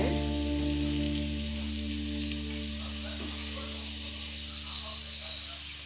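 Slices of elephant foot yam shallow-fry in oil with a soft, continuous sizzle and crackle. A steady low hum sits underneath and no one speaks.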